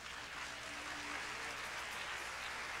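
A church congregation applauds on a Sunday morning, a soft steady wash of many hands clapping at a distance, with no talk.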